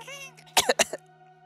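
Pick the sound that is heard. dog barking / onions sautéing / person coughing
person coughing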